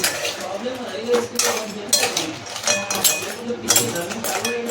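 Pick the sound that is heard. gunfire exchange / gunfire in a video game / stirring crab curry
stirring crab curry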